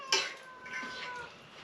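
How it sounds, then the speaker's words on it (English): A house cat meows, one sharp cry followed by a drawn-out whining call, fairly close, with no talking over it. "He just meows and meows and meows."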